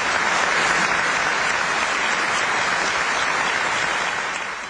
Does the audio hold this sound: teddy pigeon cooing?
no